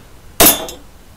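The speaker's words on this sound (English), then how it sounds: "The next step is to punch the metal." A hammer strikes a center punch into metal to make a dimple for drilling. It is a single sharp, bright metallic tap with a short ringing decay, heard alone in a quiet room.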